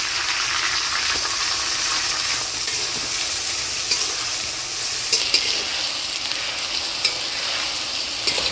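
Chopped ginger, chilli, beans and carrot stir-frying in hot oil in a pan: a loud, continuous, dense sizzle with a few faint clicks of a stirring utensil near the end.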